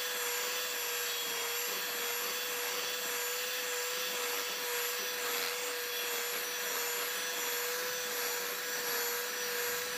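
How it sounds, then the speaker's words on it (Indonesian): An electric hand mixer beats cake batter at low to medium speed, a continuous steady whine with a high motor hum and no pauses, heard alone. "Kemudian mixer kembali adonannya hingga tercampur merata saja."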